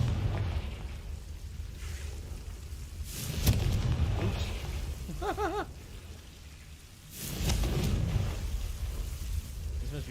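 In a video game, a fiery blasting spell strikes devil's snare twice in booming bursts with rumbling tails, set against a steady ambient wash with a faint voice between the blasts.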